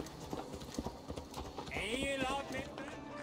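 Horse hooves clip-clop steadily at a walk in Assassin's Creed Valhalla, mixed under a dense game soundscape with a whinny-like tone partway through.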